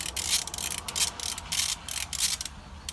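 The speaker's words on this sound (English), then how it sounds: "that nut under here, it requires a 15 millimeter socket" A socket ratchet loosening a 15 mm nut on a Jeep Wrangler, with quick repeated clicking strokes in uneven bursts, close up and without talk.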